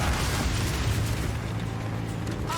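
Incendiary crossbow bolts explode in the Path of Exile 2 video game, a loud, dense, continuous roar of booming blasts and fiery bursts.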